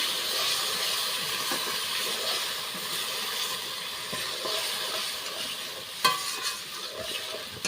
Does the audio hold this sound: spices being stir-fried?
yes